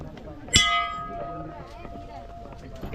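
A single metallic temple bell strike rings out and fades slowly, with a crowd murmuring in the background, at Motha Dev temple in Dang, Gujarat.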